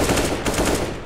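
Rapid gunfire in a shooting video game, a brief close burst of repeated loud shots with no pause in between.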